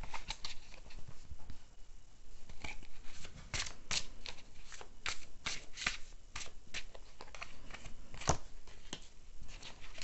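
Tarot cards being shuffled and drawn from a deck, close and crisp, a rapid patter of card flicks and snaps running throughout with several sharper slaps.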